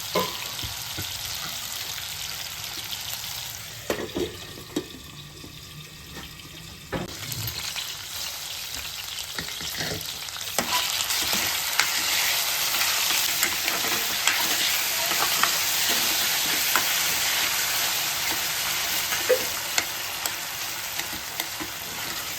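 Tomatoes with their skins removed, turned over and cooking in a pan, give off a steady loud sizzle and frying crackle throughout, with a few short stirring clatters near the middle.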